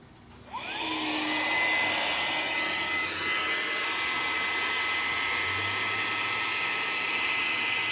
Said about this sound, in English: Now we're going to inflate the bottom.